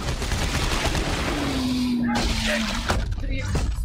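Gunfire aimed at monsters' limbs in the sci-fi horror video game Dead Space 3, loud and dense shots with crackling bursts running throughout, mixed with game effects and a player's voice.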